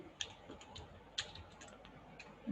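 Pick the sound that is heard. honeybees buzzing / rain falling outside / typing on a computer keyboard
typing on a computer keyboard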